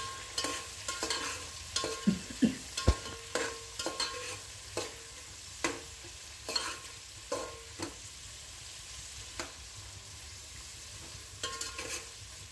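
Spoon stirring and scraping through sizzling ingredients in a frying pan for chicken biryani, a steady fry under repeated sharp scrapes in an irregular rhythm, close and moderately loud, with no talk.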